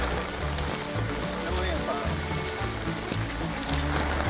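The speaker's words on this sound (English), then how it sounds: "The rain has settled in" Steady rain falls on a forested hiking trail in the Great Smoky Mountains, a constant dense patter close around with faint low rumbling and light movement underneath.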